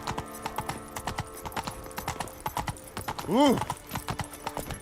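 Hooves of Roach, a horse in The Witcher 3 video game, clip-clopping in a steady walking rhythm, with a brief whinny partway through and a short exclamation from a voice.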